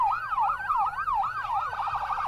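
Fire truck and ambulance sirens wail loud and close as emergency vehicles roll past in a Christmas parade. Overlapping sirens rise and fall in steady repeating sweeps, and one switches to a faster yelp near the end.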